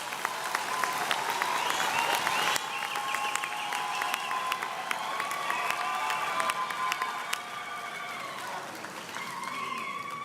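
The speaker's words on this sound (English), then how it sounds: "Please give the students from the Faculty of Economic and Management Sciences another round of applause." A graduation ceremony crowd applauds students from the Faculty of Economic and Management Sciences, with steady dense clapping, some cheering and whistle-like tones mixed in, tapering slightly toward the end.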